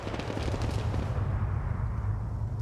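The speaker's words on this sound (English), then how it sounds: "I think that's an MG3 engaging that Zixby." An MG4 machine gun fires in a military shooter game set in Fallujah, heard as a dense, rumbling burst of low, booming gunfire that rolls on steadily for a couple of seconds before thinning out.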